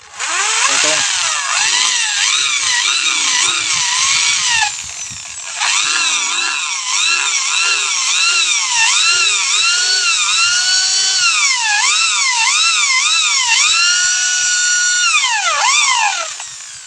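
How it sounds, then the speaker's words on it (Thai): A power drill with a large, somewhat dull bit whines loudly and steadily boring into bamboo, its pitch rising and dipping as it bores in, with one brief pause partway through. "ต่อไปก็ใช้ดอกใหญ่เจาะ"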